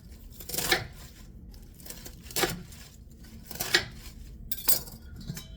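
Knife cutting quartered cabbage into two-by-two-inch pieces for kimchi: four distinct crisp crunching slices at roughly one-second intervals, close and clear, with quiet handling noise between and no talking.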